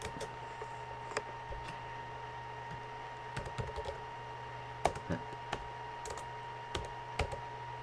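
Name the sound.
typing the nmap command on a computer keyboard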